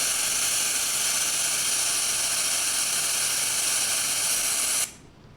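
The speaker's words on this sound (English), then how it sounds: "And here is the high filtered version of it, which is the blue noise." Steady bright hiss of blue noise, high-pass filtered white noise, weighted toward the treble with little low end, running continuously and then cutting off abruptly near the end.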